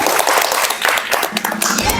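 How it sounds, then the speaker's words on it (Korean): Audience applause at a Korean cultural forum, greeting a former deputy prime minister as he comes up to speak. The clapping is brief and lively, with a voice mixed in over it. "여러분 박수로 맞아주시기 바랍니다."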